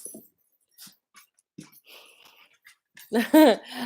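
Puppies whimper and yip in short, scattered bursts, ending in a louder run of harmonic whines close by.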